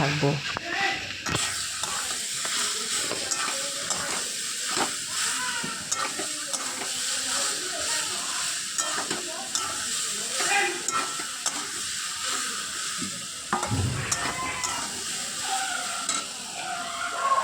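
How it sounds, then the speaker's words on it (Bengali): Chopped taro sizzles in a hot pan while being stirred, with steady frying hiss and occasional scraping clatter throughout. "এবার আমি এই কুচানো কচুটা ওর মধ্যে দিয়ে দেবো দিয়ে ভালো করে কষাতে"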